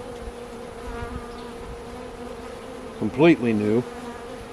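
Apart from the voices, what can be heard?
honey bees buzzing during a hive inspection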